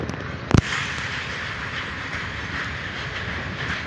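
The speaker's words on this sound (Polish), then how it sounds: "Proszę, pociąg towarowy na dymcu." A long freight train's wagons roll past at Poznań Dębiec, a steady rumbling wheel noise with a sharp bang near the start, close by and continuous.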